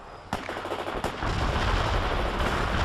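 Battle in the strategy game World in Conflict: two sharp, loud gunshot cracks, then a continuous dense roar of gunfire and rocket barrage filling the rest.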